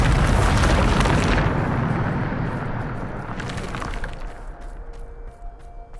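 A loud Bombarda spell explosion from Hogwarts Legacy bursts at the start, then a rumbling blast decays over several seconds into quieter crackling debris.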